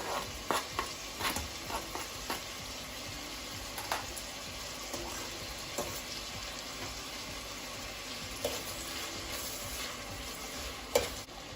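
Onion and garlic sizzle softly in a pan, a steady, low frying hiss punctuated by occasional clinks and scrapes of stirring, with no voices.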